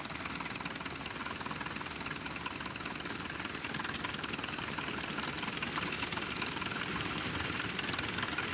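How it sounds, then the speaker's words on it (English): An Allis-Chalmers Model A tractor engine runs at a steady, rhythmic chug, moderately loud and continuous with no speech. "This Alice Chalmer Model A is one of the workhorse tractors of Dreamland."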